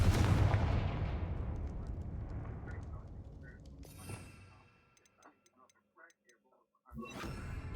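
A Confringo blasting curse cast from a wand: a loud explosive boom that rumbles and slowly fades over several seconds, then after a near-silent pause a second sharp blast bursts in.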